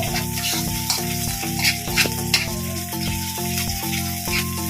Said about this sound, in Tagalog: Igisa natin guys yung Reno